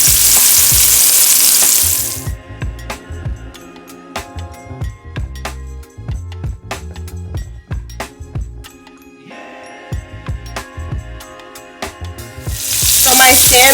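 Salmon bites frying in a pot give a steady loud sizzle at the start and end, with a run of sharp clinks and stirring taps and a quieter sizzle in between.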